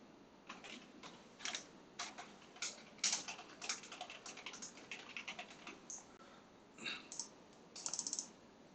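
Quiet keyboard typing at a computer while entering a label into a Microsoft Word table: a brisk run of light, irregular key clicks with short pauses, close and alone.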